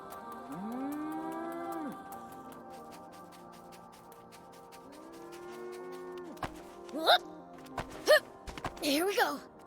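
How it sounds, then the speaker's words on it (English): A cow moos in the Sand Land video game, two long drawn-out lowing calls close up over a steady game soundtrack, followed by a few sharp clattering hits near the end. "was that a cow I just heard?"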